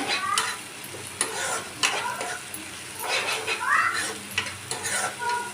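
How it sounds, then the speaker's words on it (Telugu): Eggs fry in a pan as a spatula stirs and scrapes them, an irregular run of close scraping strokes over a continuous sizzle. "ఎగ్స్ బాగా మిక్స్ చేస్తున్నాను. చూసారు కదా, బాగా ఫ్రై అయిపోతుంది."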